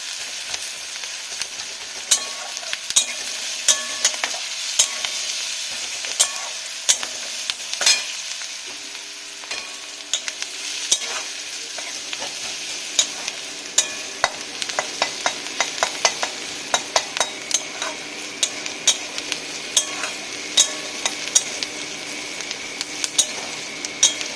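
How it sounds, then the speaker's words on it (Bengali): Onions with salt and turmeric fry in a pan for a mourala fish curry, sizzling steadily while a spatula scrapes and taps the pan in frequent sharp clicks throughout. "পেঁয়াজটাকে একটু ভালো করে লাল লাল করে ভেজে নেব"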